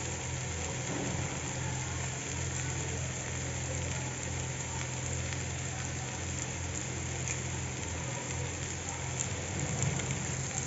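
Onions with curry leaves frying in a pan for a dry chicken chukka, giving a steady, close, even sizzle and crackle that holds without a break and with no talk.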